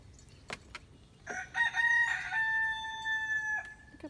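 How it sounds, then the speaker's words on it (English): A young rooster crows nearby, a clear, strained call rising after a few soft clucks in an otherwise quiet outdoor setting. "Who's that little rooster?"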